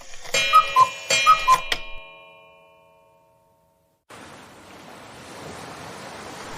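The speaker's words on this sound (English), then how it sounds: "the classic sound of waves" Ocean waves wash onto a beach in steady, broad surf noise that begins after a ringing clock-like ticking passage and a brief silence, continuing without any voices.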